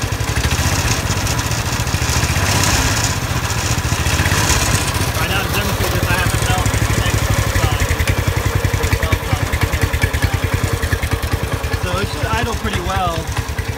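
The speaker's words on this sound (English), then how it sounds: "Okay, so now we hear it idling." The small glow-plug engine of a Winch Skate iwinch idles, its fast, loud, buzzy putter running throughout and growing rougher and more pulsing toward the end, with a voice talking over it.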